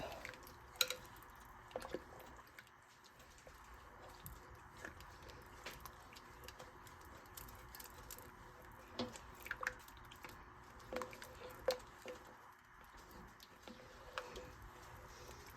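Milk being stirred into potato soup in a crockpot, giving soft wet squishes and drips that repeat irregularly at low level close by, with no talking.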